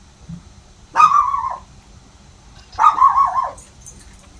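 A dog barks twice, each a sharp, loud yelp trailing into a short whine, separated by a couple of seconds of near silence.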